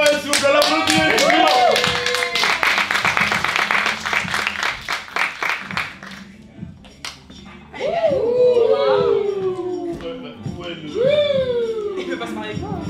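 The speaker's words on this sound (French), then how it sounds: "S'il vous plaît, l'applaudissement." An audience applauds a second duo at a couples' best-dressed contest, loud clapping for about six seconds before it fades under lively talk and laughter from the people present.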